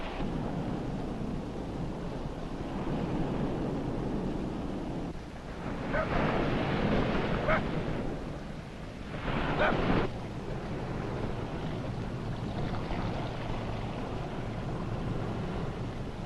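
Atlantic Ocean surf on a coastline of natural harbors, a steady broad wash of waves with louder surges breaking around the middle, alone with no voices.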